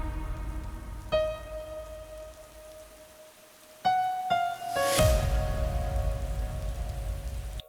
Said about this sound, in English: now we have rain ambience